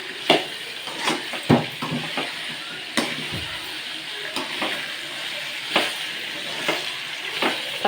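Vegetables, including tender brinjal, sizzle in a pan for a dried-fish curry while a spoon stirs them, giving repeated scraping strokes and light clinks over a steady frying hiss.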